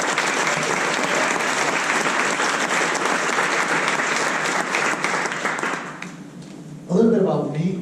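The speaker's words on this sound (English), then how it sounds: "can we just give some applause to Tout le monde UX?" Dense, steady audience applause fills a conference hall for about six seconds, then fades, followed by a short burst of nearby talking at the end.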